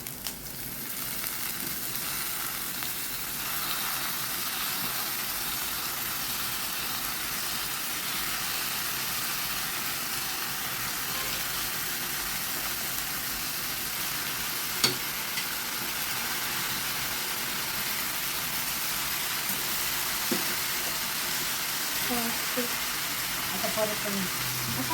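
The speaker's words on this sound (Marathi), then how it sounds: "तेलात जरासं परतून घे. आणि आता आई गरे ॲड करते." Jackfruit pieces sautéing in oil in a pan, a steady gentle sizzle and fry running throughout with occasional stirring clinks, fairly close.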